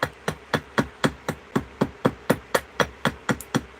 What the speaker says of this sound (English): choking up on the axe with a finger as well to stabilise it, stop it twisting, and I can really just tap tap tappy tap